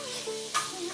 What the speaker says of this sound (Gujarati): દૂધીને ગરમ ગરમ ઘી સાથે થોડીક વાર માટે સાંતળવાની છે.